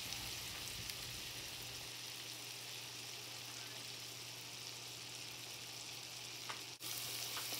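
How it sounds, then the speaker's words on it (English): Butter and spices sizzle in a pan as a soft, even frying hiss that holds steady throughout, quiet and unbroken apart from one brief dip near the end, with no talking. "Stirring it constantly, your butter is going to turn brown like this. Let's add those spices."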